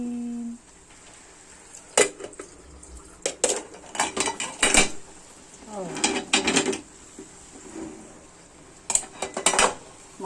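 A metal cooking pot clatters and clanks in several sharp bursts, with scraping and utensil knocks between them, fairly close, while cooking leafy greens and chili.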